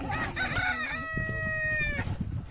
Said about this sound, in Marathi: कोंबड्याच्या आता झोपा झाल्यात